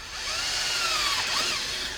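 A handheld power drill rigged as a makeshift drill press whines loudly and steadily, its pitch rising and dipping slightly as it bores, close up with no talking.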